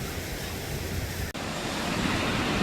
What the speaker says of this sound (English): This is a little stream here by the hatchery.